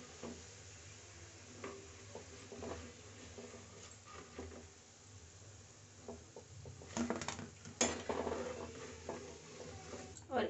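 Koftas sizzle quietly in a pan of hot oil with soft crackling, broken by occasional clinks and scrapes of a spoon against the pan that grow louder toward the end, while a cook speaks now and then.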